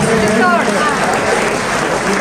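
Audience applause at a school annual function, a steady dense wash of clapping over about two seconds with voices mixed in.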